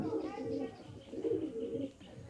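Pigeons on a small pigeon farm coo in soft, throaty, repeated phrases, close and continuous, with a voice speaking in the background.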